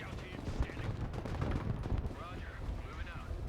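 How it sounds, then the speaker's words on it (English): Heavy artillery fire in the war strategy game Broken Arrow, a continuous rumbling barrage of overlapping booms and distant blasts, with a voice talking over it. "that is a lot of artillery"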